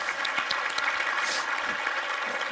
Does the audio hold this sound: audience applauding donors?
yes